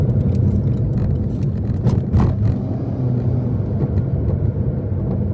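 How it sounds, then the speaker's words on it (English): Steady road traffic on a busy four-lane city street, heard from inside a car, with a continuous low rumble of engines and tyres and a few passing vehicles swelling briefly. "I hate this street. 4 lanes of traffic."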